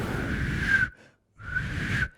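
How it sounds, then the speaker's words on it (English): Whistling of a tune caught on a recorder in the dungeon of the Curfew Tower during a ghost hunt, two sustained whistled phrases separated by a short silence, fairly clear and close. "that person is clearly whistling a tune"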